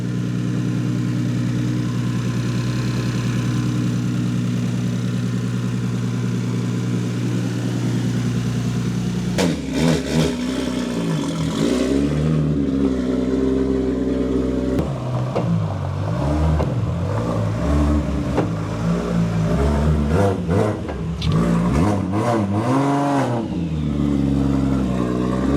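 Tuned BMW S55 engine with a 4N setup on a dyno, first a loud steady idle, then repeated sharp revs rising and falling in bursts, close and unaccompanied by talk.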